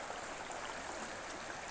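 The Louro river near a bridge after heavy rain, a faint steady rush of flowing water heard from a distance with no voices.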